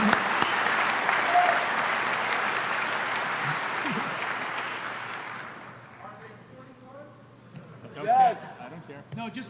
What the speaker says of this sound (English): Let's give them all a big round of applause for their first time.